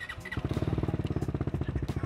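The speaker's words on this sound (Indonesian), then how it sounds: "Suara knalpotnya, ini knalpotnya udah nggak standar, udah pakai Akra." A motorcycle with an aftermarket Akrapovic exhaust starts up, its engine catching after a brief crank and settling into a loud, close, rapid pulsing idle.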